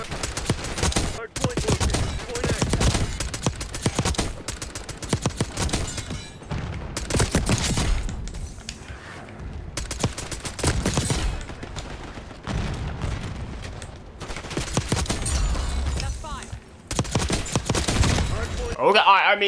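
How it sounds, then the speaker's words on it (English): Suppressed Tanto .22 SMG firing in Black Ops 6, heard as repeated bursts of gunfire across the whole stretch with short pauses between volleys. The firing is loud and dense, with other game sounds mixed in. "the first weapon we're going to take a look at here is the Tanto.22. This is a rather slow firing SMG, but it's very powerful"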